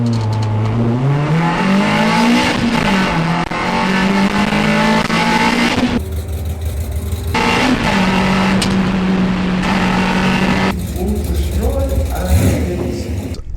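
Drag race cars launching side by side at Santa Pod on a green light start, engines roaring loud and rising in pitch through the gears, then a second run of revving and acceleration, with an announcer talking over it.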